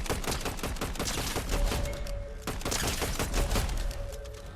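Rapid bursts of gunfire crack in Fortnite Zero Build, loud and close, with dense repeated shots, a brief pause midway, then another volley.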